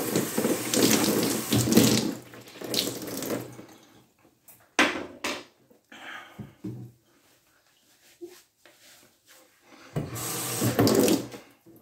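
Tap water running into a sink while rinsing after a shave with a vintage Colgate shave stick, close splashing bursts at the start and again near the end with quieter handling noises between.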